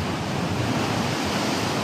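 Ocean waves wash continuously onto Fazayah Beach near Salalah, a steady loud roaring surf with broad hiss and no talk over it.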